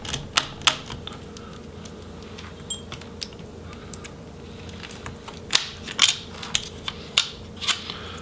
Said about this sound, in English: remove that screw